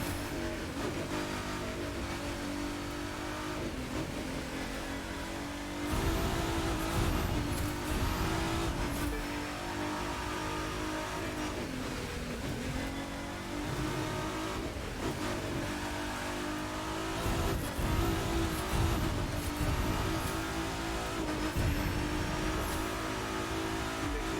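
A racing car engine in The Crew 2 video game revs hard and sustained while its tyres slide sideways through corners, with the engine pitch rising and falling between bends and occasional louder surges, with no talk.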